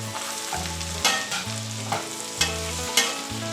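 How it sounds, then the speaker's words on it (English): Potatoes for hillbilly hash fry over medium heat in a pan, with a steady close sizzle and repeated stirring scrapes at a regular pace, no talking. "we're going to start cooking these potatoes down"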